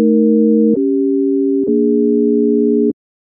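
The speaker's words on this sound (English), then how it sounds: "This is what creates a sine wave." A pure synthesized sine wave tone, steady and loud, holding for about three seconds with two slight shifts in pitch and small clicks at each change before cutting to silence.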